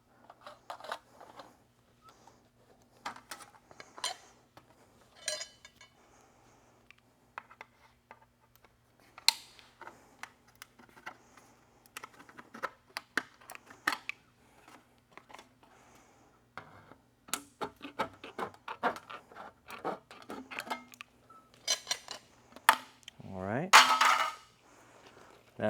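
Sharp snips and clicks from metal snips cutting aluminum roof drip edge to size, scattered irregularly over about 25 seconds, close and fairly quiet, with a louder crunching burst near the end.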